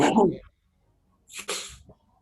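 A short burst of voice at the start, then a sharp sneeze-like burst after a pause of silence, fairly close and loud.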